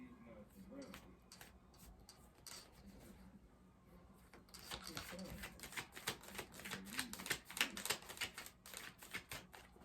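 Playing cards are shuffled with soft flicks that grow into a rapid, dense riffle of clicking, close by, with a quiet voice now and then.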